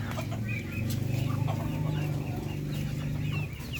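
Darag breeder chickens cluck steadily in a flock at morning feeding time, given layer feed and corn, a dense continuous chorus of overlapping clucks and low calls close by.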